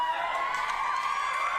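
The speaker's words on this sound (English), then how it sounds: "They're cheering." A live television singing-competition audience cheers and shouts steadily, a continuous roar of crowd noise with no pauses.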